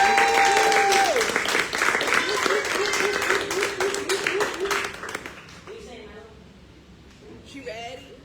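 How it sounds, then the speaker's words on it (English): Audience applause at a live poetry and music release party, steady clapping sustained under a sung or spoken voice before fading out toward the end. "Can we give her another round of applause?"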